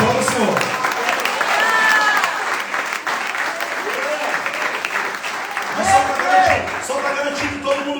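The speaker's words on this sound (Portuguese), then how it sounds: "Muita gente entendeu, aplauda o Senhor." A church congregation applauds steadily in a sustained wash of clapping, with a voice speaking over it and brief melodic tones rising near the end.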